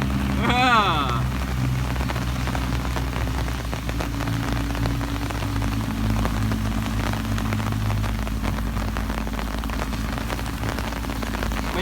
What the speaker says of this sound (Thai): มาปุ๊บฝนตกเลย